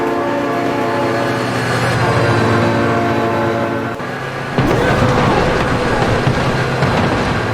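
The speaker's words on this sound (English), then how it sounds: "Oh my god, train!" A train in the video game BeamNG roars past loudly with a sustained blaring horn, then a harsher rumbling clatter of the cars as it goes by close, with no talk.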